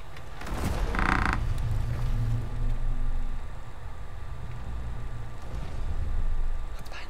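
A heavy door creaks open in the video game God of War Ragnarök, with a long, loud, grinding creak and mechanical rumble stretching over several seconds in a reverberant space.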